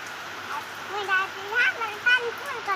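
Heavy rain pours steadily in a village, a constant broad wash of falling water beneath someone talking close by over it.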